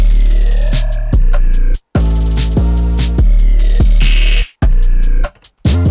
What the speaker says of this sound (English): So I actually used this other 808 as well.